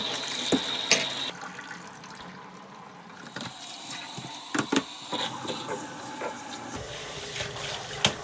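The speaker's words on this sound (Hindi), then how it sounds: "अब मैं ये जो दो प्री फिल्टर्स हैं इसको धोऊंगा, ये काफ़ी गंदे हैं इस वक्त। वही तरीका, थोड़ा सा डिश सोप और वाटर।" Running water and dish soap used to wash two dirty furnace pre-filters at a sink, heard as a steady close splashing flow with occasional knocks and handling clatter. There is no talk.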